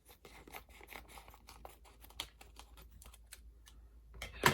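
Scissors snip and rustle against a plastic packet holding the canopy from an Airfix 1:72 Red Arrows Hawk model kit, a quick irregular run of close, quiet cuts and crinkles ending in a louder rustle, with no talking.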